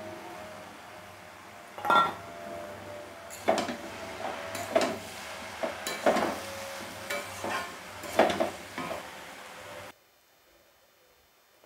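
Shrimp going into cabbage frying in a pan, a low steady sizzle broken by several sharp spatula knocks and stirring clatters, then a sudden cut to near silence near the end.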